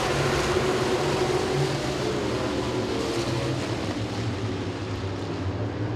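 Modified race cars at Langley Speedway roar together at the start of a race, a dense, loud, sustained engine drone with a low rumble and no clear breaks.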